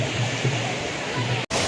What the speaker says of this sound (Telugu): చూసారా, ఇదో వాటర్ ఫాల్స్